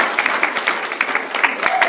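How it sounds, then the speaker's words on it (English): An audience gives a round of applause and thanks, steady clapping at moderate level throughout, with a faint voice or two mixed in. "I just want to give her actually a round of applause and a big thank you"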